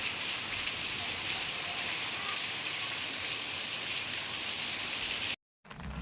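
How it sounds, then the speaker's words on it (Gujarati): Heavy rainwater pours off a house roof onto the ground below, a dense, steady, close rushing hiss that cuts out briefly just before the end. "જો મકાન ઉપરથી કેટલા આમ પાણી આવે છે"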